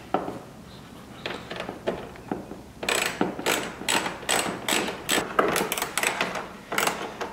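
Nuts are tightened with a ratchet while a Corvette C5 aero kit is installed. Faint clicks come first, then from about three seconds a run of loud, rapid ratcheting bursts with short pauses between them.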